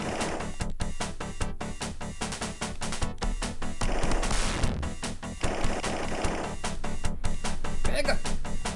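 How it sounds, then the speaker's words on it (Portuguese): Gunfire in the Sega video game ESWAT rattles in rapid, dense bursts of sharp electronic shots with crashing effects, continuous and loud throughout the clip. "Tem que dar vários tiros nesse cara aqui, mano."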